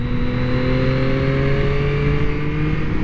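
A 2023 Yamaha MT-09 SP motorcycle engine idles loudly with a steady, close-up drone, its pitch creeping upward as the throttle is blipped lightly, with no voices over it.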